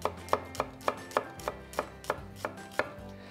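An onion is chopped with a knife on a board in about a dozen evenly spaced, crisp strokes, close and clear with no talking.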